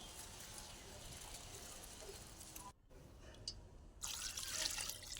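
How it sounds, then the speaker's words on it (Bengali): Chicken is rinsed under water before cooking, a quiet steady trickle and splash of running water that briefly cuts out, then returns with louder sloshing. "আমি মাংসটা রান্না করার আগে আরেকবার ধুয়ে নিচ্ছি"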